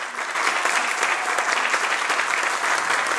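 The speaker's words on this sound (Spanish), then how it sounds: "a quien pido un aplauso especial por estar con nosotros" Audience applause at a nurses' day institutional ceremony, a dense, steady wash of many hands clapping that holds at full strength throughout, with no speech over it.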